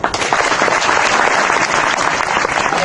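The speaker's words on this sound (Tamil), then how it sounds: "கைத்தட்டு." An audience at a Bhagavad Gita discourse claps together, a loud, dense burst of applause lasting a few seconds with no talking over it.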